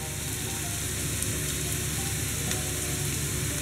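Boletus mushrooms, lightly salted, fry in a pan while being stirred for a quiche, giving a steady, close sizzle that holds evenly throughout with no voices.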